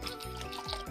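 Water tipped into a pot of ghugni, a pea curry, giving a brief liquid splash and gurgle with dripping, close by, over about a second with no talk.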